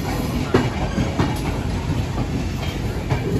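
A train rolls through New Delhi railway station, its wheels giving a steady clickety-clack with a couple of sharper knocks over a constant rumbling hiss, close and fairly loud.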